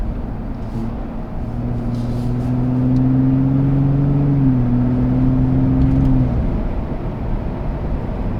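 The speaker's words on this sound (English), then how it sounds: "So you can hear it a little bit more now in normal mode." Gen 3 Ford Raptor with the 3.5L engine and stock exhaust in normal mode, a steady low idle drone that swells a little in the middle and then settles back down.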